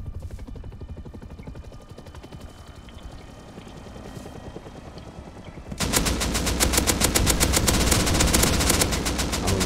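Attack helicopter in the game Rust firing on players: a rotor drone runs throughout, then a loud sustained burst of rapid machine-gun fire erupts partway through and continues to the end.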